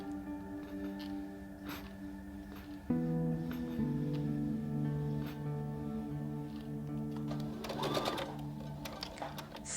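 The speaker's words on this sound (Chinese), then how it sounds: "缝纫的过程呢，就是把每一个大的部分中的小部分去慢慢的给它缝合起来" A sewing machine stitches corset pieces together for an 1890s-inspired corset, running in a steady, close mechanical whir with a brief stop and restart partway through.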